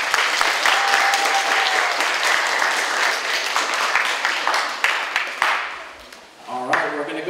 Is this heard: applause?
yes